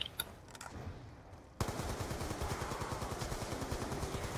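An LMG machine gun fires a long, rapid, unbroken burst in a video game, loud and rhythmic after a few quieter shots and a brief lull.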